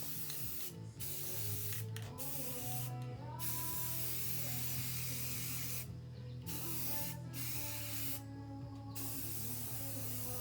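Spray paint goes on as a coat over a Multione loader, a close, continuous aerosol hiss broken by several short pauses between passes.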